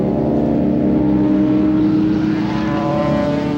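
Racing motorcycles roar at Shannonville circuit in Ontario, a loud, steady engine drone with strong tonal harmonics that holds without a break, heard alone with no talking.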